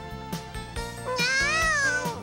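A cat meowing in the game Kitty on Your Lap, a short rising and falling meow that sounds clear and close and plays over light background music, with no talking.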